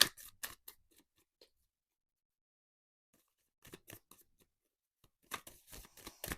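Short bursts of tarot cards being shuffled, crisp riffling flurries separated by stretches of near silence, close and fairly quiet.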